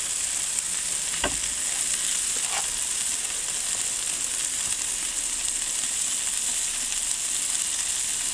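Steady, loud sizzle of a cheese-stuffed smash burger patty frying on a hot griddle, continuous hiss throughout with a sharp scrape or thump as it is pressed down.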